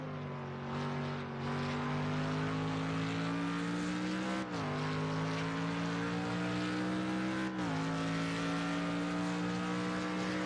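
A GT3 race car engine drones in a racing video game on PC2 and PlayStation. The steady, buzzy hum holds throughout, with brief dips and shifts in pitch as the revs change, and there is no talk.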